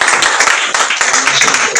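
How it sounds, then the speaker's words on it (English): An audience in a session hall claps in a brief, dense round of applause, steady and fairly loud throughout. "Another round of applause for"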